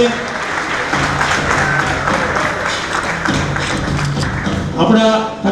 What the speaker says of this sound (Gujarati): તાળીઓથી આપણે બાબુ કાકાને વધાવીએ.